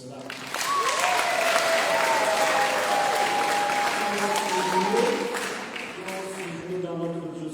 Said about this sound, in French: Nous devons applaudir pour cela.